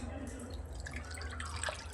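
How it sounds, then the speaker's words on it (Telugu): Fish being washed in water with salt, a brief stretch of splashing, dripping and trickling water, moderately close, with a voice faintly audible underneath. "సాల్ట్ వేసి ఫిషెస్ కడుక్కొని ఇలా పక్కకి పెట్టుకోవాలి."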